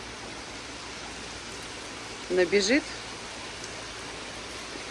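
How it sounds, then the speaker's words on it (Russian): A short tropical rain shower falls in the Maldives as a soft, even hiss that holds steady throughout, and one voice speaks a single word briefly over it. "Вот такой дождик проходит раз в 2-3 дня, буквально по 5 минут."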